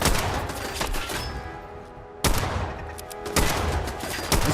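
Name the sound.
gunfire in Fallout 4 video game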